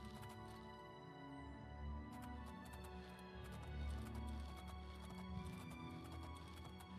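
Horse hooves clip-clop in a steady trotting rhythm in the video game Oblivion, under a low ambient drone, with a brief neigh-like sound among the hoofbeats.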